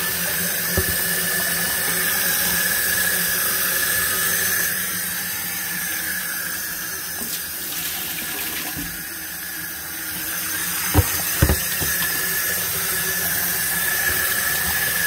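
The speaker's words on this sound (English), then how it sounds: "let's put the water in" Water pours steadily into a donated fish tank for a long stretch, a loud, even rushing hiss with a few sharper splashes and knocks near the end, no speech.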